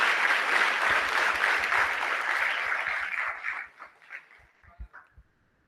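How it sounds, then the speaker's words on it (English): An audience gives sustained applause for a person named Angelo Barboza, a dense wash of clapping that thins into a few scattered, separate claps near the end. "Angelo Barboza, give a big round of applause."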